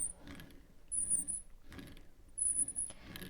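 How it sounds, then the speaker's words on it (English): A brayer inked in grape purple rolls over an embossing folder for cardmaking, giving soft repeated rolling rasps with faint ticking, in three passes about a second apart, close up and fairly quiet. "Then I'm going to roll it on top of the embossing folder"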